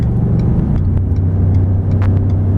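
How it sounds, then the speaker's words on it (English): A 2016 Ford F-150 Platinum 4x4 accelerates while towing a trailer, a steady loud in-cab engine rumble with a low droning tone that holds throughout, without any talk. "We'll go ahead and test the acceleration here."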